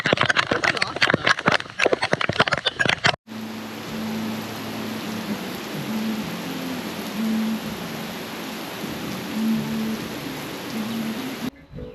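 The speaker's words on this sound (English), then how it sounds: "And it's really raining now." Heavy rain pours down on a beach in Cambodia, a steady dense hiss of drops that runs almost unbroken for several seconds after a short burst of louder, choppier noise, with no talk over it.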